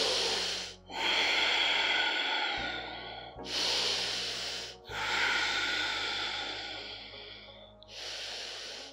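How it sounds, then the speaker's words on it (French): Slow Ujjayi breaths during chair yoga: long, hissing, throat-constricted inhales and exhales in about four drawn-out cycles, close and fairly soft, separated by brief pauses. "c'est la respiration Ujjayi, la respiration victorieuse qui tue toutes les maladies"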